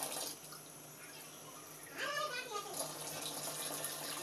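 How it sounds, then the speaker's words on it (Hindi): Water pours from a glass into a pot holding three packets of Maggi masala in a home kitchen, a soft splashing stream that is quiet at first and then rises, with someone talking. "अब हम इसमें पानी ऐड करेंगे,"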